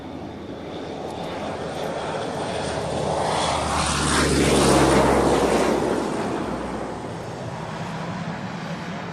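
A fixed-wing aircraft from South Africa passes by, its engine roar swelling from a distant rumble to a loud peak near the middle before fading away, with a sweeping pitch shift as it goes past.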